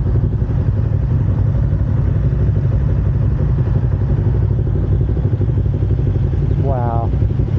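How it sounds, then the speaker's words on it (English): A motorcycle engine rumbles steadily and loudly for the whole stretch, a continuous low drone up close, with a brief voice near the end. "What a cool bike."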